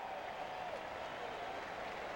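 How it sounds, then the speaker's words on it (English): A ballpark crowd applauds Brett Butler at a Dodgers versus Braves game in Atlanta, a steady, distant wash of clapping and cheering with no clear individual claps. "And he gets a great round of applause, as he so justly deserves"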